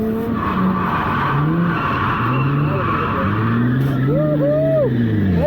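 A car drifting on a track after a clutch kick, its engine droning and rising in pitch while tires squeal in long wavering skids, with people talking over it.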